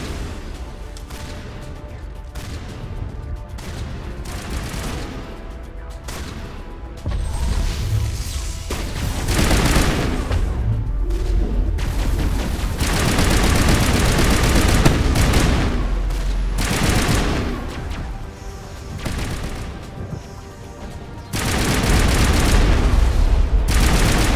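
Heavy gunfire and booming blasts in the Mass Effect game on Virmire, dense and continuous for the whole stretch, loud and close with repeated thudding impacts and crashes and no voices.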